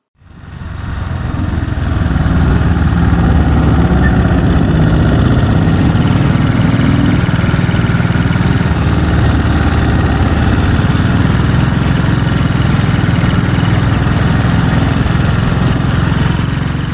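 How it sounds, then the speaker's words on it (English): Vintage motorcycles, a Triumph and a 13-horsepower Matchless, pull away from road junctions with a loud, close, steady engine drone that rises quickly at the start and holds without talking. "nippy little Triumph is a little bit quicker away from the junctions than my 13 brake horsepower of Matchless"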